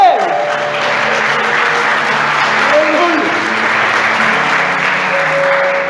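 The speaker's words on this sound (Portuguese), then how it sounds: "Você pode aplaudir a Ele?" Sustained applause from a church congregation fills the space at a steady level, with faint voices and a held musical tone beneath the clapping.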